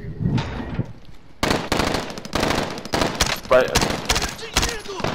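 Rapid bursts of automatic gunfire in Call of Duty: Modern Warfare's Verdansk battle royale, loud, close and sharp, firing in repeated volleys after a short quiet lead-in, with a brief spoken word mixed in.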